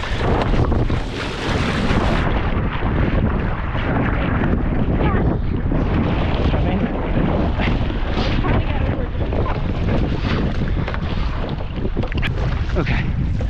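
Heavy wind buffeting the microphone aboard a 29er racing dinghy, a loud, constant roar mixed with water rushing past the hull, with voices talking faintly underneath.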